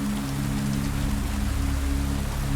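Steady, dense rain falls and patters on a surface at night, an even continuous hiss with a low hum beneath, no voices.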